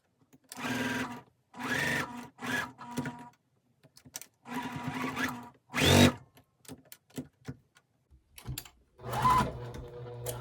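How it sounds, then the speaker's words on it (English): Sewing machine stitching quilt star pieces for a friendship star block, running in several short bursts with pauses between, close and fairly loud, with a faint voice at one point. "Okay, I've got my star sewn together here"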